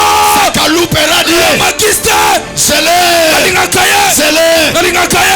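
A worship congregation at a prophetic church service cheers and shouts in acclaim, loud and sustained, with sung or chanted voices rising and falling over a dense crowd roar throughout.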